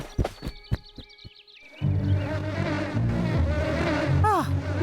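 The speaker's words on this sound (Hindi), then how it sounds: "वो मधुमक्खियां करमचंद की हैं।" Cartoon bees swarm with a dense, continuous buzzing drone after a short plinking musical opening, loud and up close, with a rising whistle-like effect near the end.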